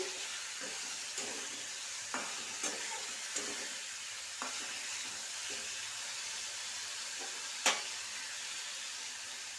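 Spice paste fries in a pan for a fish curry, giving a constant soft sizzle broken by occasional taps and scrapes from stirring, with one sharper knock near the end.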